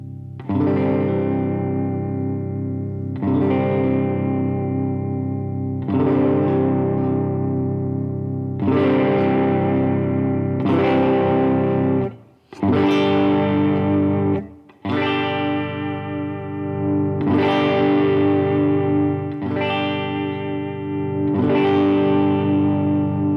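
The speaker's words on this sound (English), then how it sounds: "then this expression pedal 2 is assigned to gain. More gain." A guitar modeler with a high-gain distortion tone, gain swept by an expression pedal, rings out loud, repeated strummed chords, each sustaining and decaying before the next, with one brief cut to silence midway.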